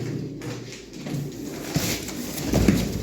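Pigeons in a loft of white fancy pigeons coo softly at close range over a low background hum, with faint shuffling and a louder burst near the end.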